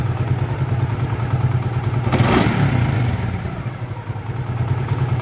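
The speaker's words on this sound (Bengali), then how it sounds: "ইঞ্জিনের সাউন্ড শোনেন।" A motorcycle fitted with a gas kit runs close by at a steady low idle, with a short louder burst of clatter and revving partway through before it settles back.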